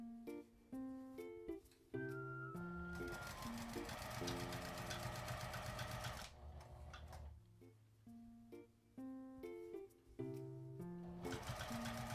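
A sewing machine stitches a lined mini box key-holder pouch sewn from a single piece of fabric, its zipper left fully open. The stitching runs in steady bursts, close and clear, over tuneful background music.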